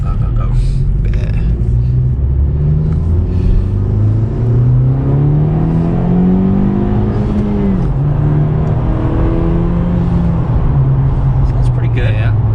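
A 2020 Honda Civic Si fitted with a PRL Cobra cold air intake revs up repeatedly nearby, its engine note climbing and falling in loud, rising sweeps over a steady rumble.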